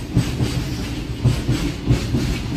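Steady interior rumble of the 12787 Nagarsol SF Express under way, with rhythmic clickety-clack wheel beats recurring every half second or so over a constant low drone.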